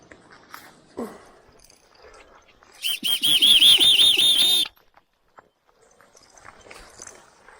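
A bird close by in the trees on a hike at Fiddler Lake gives a loud two-second burst of rapid, warbling chirps with fluttering. Quieter outdoor sounds and soft movement come before and after.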